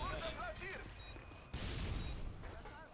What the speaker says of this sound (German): Ich hab die Granate gezogen.